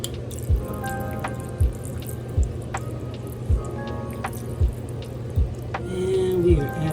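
Water running into an Instant Pot as it fills to the max line, with a soft continuous trickle and a regular series of distinct plinking drips about once a second, close and fairly quiet.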